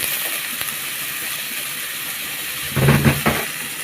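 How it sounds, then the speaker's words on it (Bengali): Chopped onion and garlic frying in a pan, a steady soft hiss throughout with a brief louder burst of crackle toward the end, no voices. "পেঁয়াজ কুচিটা একটু ভেজে নিতে হবে। রসুনও দিয়ে দিলাম"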